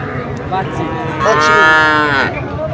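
A single Agor cow moos loudly and close by at Ambari cattle market in Dinajpur, one long drawn-out low call rising and falling, with faint market noise behind it.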